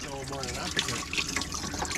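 Hot coolant pouring out of a Ford 7.3 IDI diesel engine, a continuous splashing trickle of liquid close by, with someone speaking over the flow.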